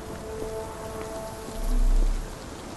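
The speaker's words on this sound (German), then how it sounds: "Ich meine, es regnet." Steady rain in the 2023 video game Sherlock Holmes: The Awakened, a continuous soft patter alongside low game ambience, with a deeper rumbling swell partway through.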